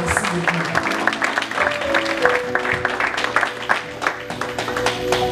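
A church congregation applauds during an ordination service as people stand to acclaim the Lord. The clapping runs steadily and densely throughout, with a sustained musical tone and some voices mixed into the crowd noise.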